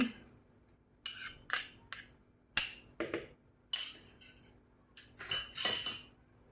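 Spoon stirring cream with labneh cheese in a pot for tiramisu, giving intermittent metallic clinks and scrapes against the pot in short bursts, fairly close, with quiet pauses between strokes and no talk.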